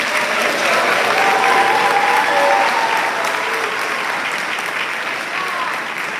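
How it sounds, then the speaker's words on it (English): Dense, sustained applause from a graduation ceremony audience honoring a pastor, a loud continuous wash of clapping that holds steady and eases slightly toward the end, with faint crowd murmur mixed in. "Please join me in giving a round of applause to our Nativity pastor."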